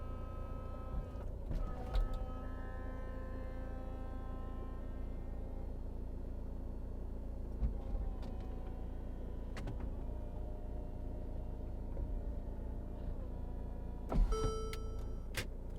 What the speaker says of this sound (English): Okay, I'll just put the hood down.